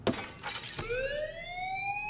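Glass shatters with a sharp crash from a hammer strike in the video game Life is Strange, followed by a rising electronic whine with bright tones as the sound fades out.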